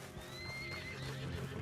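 A horse whinnies with a rising, drawn-out neigh in the video game Red Dead Redemption 2. Hoof clip-clops and low rumbling sit underneath, the horse sounding close and steady through the whole stretch.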